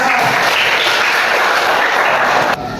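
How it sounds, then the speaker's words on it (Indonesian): Brief, loud burst of applause in an Indonesian classroom session, dense clapping that cuts off abruptly after under three seconds, leaving a lower background hiss. "Kita beri tepuk tangan."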